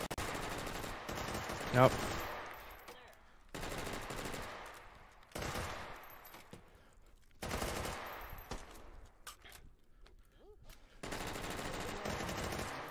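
Bursts of AUG rifle fire in a competitive video game, several sustained volleys separated by pauses, loud and up front, with a few spoken words in between.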